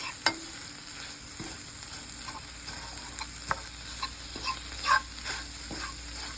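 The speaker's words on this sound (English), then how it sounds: "I'm just going to keep stirring it till you get the spinach with it down" Spinach with butter cooks in a frying pan, a soft steady sizzle under a continuous background hum, with occasional light clinks and scrapes from a utensil stirring.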